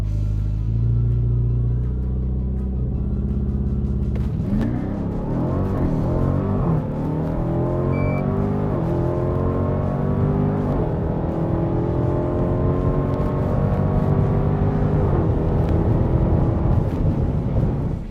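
A 2021 Dodge Durango SRT Hellcat on a drag strip idles with a deep rumble, then launches into a loud, rising supercharged engine roar that climbs through several gear changes and holds at full power until the end.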